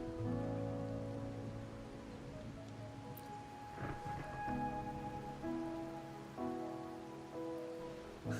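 Rain falling on a rainy night in the video game Wuthering Waves, a steady soft patter and hiss mixed with sustained musical tones, with no voices.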